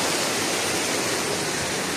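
A waterfall pours inside a cave at Complexo Paraíso in Brazil, giving a steady, dense rush of water that fills the whole short stretch without pause or voices.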